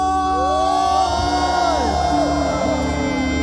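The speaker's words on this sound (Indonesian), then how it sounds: "Yang masih semangat teriak dulu." A concert crowd at a live show shouts and cheers continuously over held music tones, a dense wash of voices that stays loud throughout.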